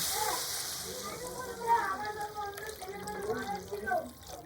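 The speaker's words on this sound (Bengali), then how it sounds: "এবার আমি এর মধ্যে জল যোগ করে দিচ্ছি" Water is poured into a pot of chicken soup, a soft hissing splash at the start that fades beneath someone talking close by.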